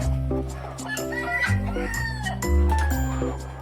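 Several laying hens cluck and squawk close by in a busy, overlapping chorus among rows of nesting boxes, with a rooster-like crow rising among them.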